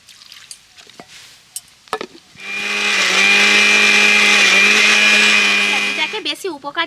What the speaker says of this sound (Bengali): তো আমি একটা মিক্সির জারের মধ্যে ভরে নিচ্ছি এতে করে মিহি পেস্টও হয়ে যাবে